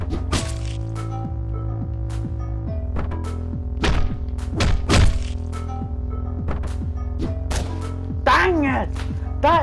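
Combat sounds from the top-down action game Hotline Miami, with repeated sharp thunks and whacking stab impacts in a busy rhythm over game music, ending in a squishy splatter, while a player talks over it.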